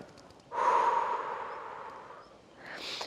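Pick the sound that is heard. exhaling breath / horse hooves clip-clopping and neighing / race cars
exhaling breath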